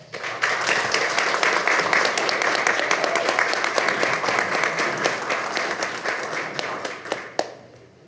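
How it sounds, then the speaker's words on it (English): Sustained applause from the audience at a Greer, South Carolina city council meeting, many hands clapping in a dense, even roar for about seven seconds, with a few sharper individual claps standing out as it tapers off. "Please give Chris Harrison a round of applause"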